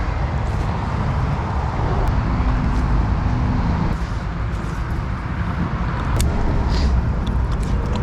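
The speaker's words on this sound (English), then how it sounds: "Sorry for the noise, we're right underneath a busy road." Dense traffic on a busy road passing overhead, heard from beneath the bridge pilings as a constant, rumbling broadband wash of vehicles with slight surges and no clear individual passes.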